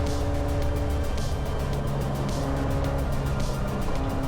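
A 40-year-old Toyota race car in a 25-hour endurance race roars steadily at full throttle through fast corners, with strong sustained engine harmonics and layered car noise, loud and close throughout.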